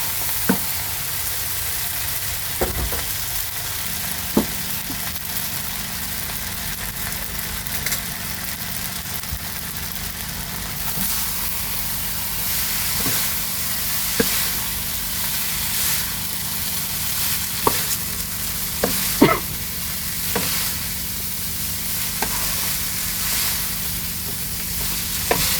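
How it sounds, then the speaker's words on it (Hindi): Fried spaghetti is tossed with vegetables in a hot pan, giving a continuous loud sizzle broken by intermittent clacks and scrapes of the utensil, with no voices. "मैं ये जो स्पैगेटी मैंने फ्राई की थी इसको डाल के इसको टॉस कर लेंगे इन वेजिटेबल्स के साथ"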